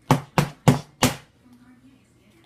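A knife slices Play-Doh shaped like a brownie into layers, striking a hard surface four times in an even rhythm, each a sharp close knock, followed by quiet.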